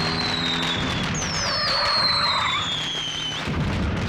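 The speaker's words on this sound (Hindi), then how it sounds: "आज न दिवाली है न दशहरा, फिर भी पटाखे चला रहे हैं, वो भी बीच सड़क पर" Firecrackers set off in the middle of a street, heard as a run of whistling streaks that slide down in pitch, with crackling and bursts over a steady noisy outdoor background; no one speaks.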